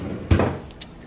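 A drawer is pulled open close by, a single short wooden thud and slide followed by a faint click.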